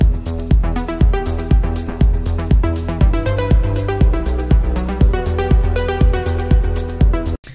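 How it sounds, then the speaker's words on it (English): A deep melodic techno drum loop from a preset pack thumps along with steady kicks, bright claps and hats, loud and upfront, with no voices. "I have just again prepared a loop that's coming from our deep melodic techno preset pack."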